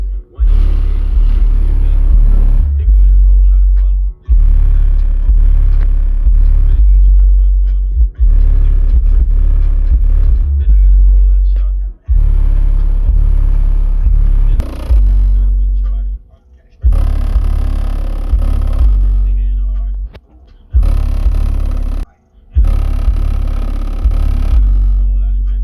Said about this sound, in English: So that was with the subwoofers facing backwards, and that thing was sounding a lot more louder, bro